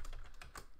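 Quick taps on a computer keyboard, about four crisp keystrokes in under a second, close and quiet with no talking.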